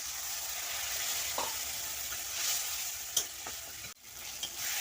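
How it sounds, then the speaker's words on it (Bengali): Spiced masala with dried red chillies and tomato sautés in a pan, giving a low, steady sizzle broken by a few scrapes and taps of the spoon, plus one sharp knock near the end, heard close and quiet with no talking. "ভালো করে কষিয়ে নেব মশলাটা যাতে পুড়ে না যায় তার জন্য একটু জল দিয়ে দেবো"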